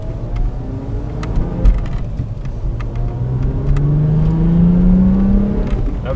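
A 2004 Volkswagen Jetta GLI's 2.8 VR6 engine revs hard, its pitch climbing steadily into a loud, sustained scream, with a few sharp clicks along the way.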